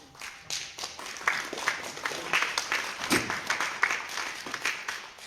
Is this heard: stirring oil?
no